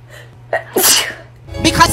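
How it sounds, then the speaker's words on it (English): One sharp, loud sneeze close by, with a short intake of breath before it and a faint hum underneath. "Because he went from saying nothing to sneezing."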